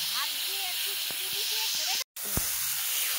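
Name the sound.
spice-washing water added to hot prawn curry pan, hissing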